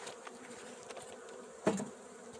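Bees hum and buzz steadily as they settle into a hive made of reeds, a low continuous drone with one brief louder swell near the end, no talking.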